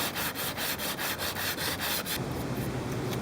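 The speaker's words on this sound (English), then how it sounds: "So I just finished up sanding this crack here below the tow rail." Rhythmic hand sanding of a crack below a boat's tow rail, damaged from pounding under a dock: quick, regular scratchy rubbing strokes close up, then a steadier continuous rasp.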